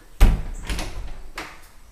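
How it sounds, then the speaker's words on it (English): A secret door in a house bumps open with a sharp knock, followed by softer wooden thuds and sliding scrapes a moment later, close and fairly clear, with no talk. "secret door"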